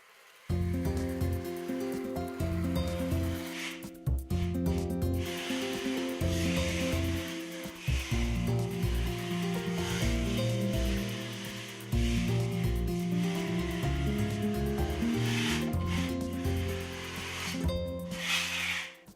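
Parquet glue is spread across a wood floor with a spatula held at 45 degrees, giving long close scraping and rubbing strokes with brief pauses between passes, alongside some steady background music.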